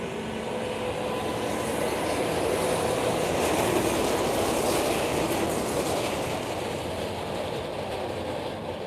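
A jet airplane takes off at Lisbon Airport on a sunny afternoon, heard as a steady, loud, broad engine roar that holds throughout with no voices.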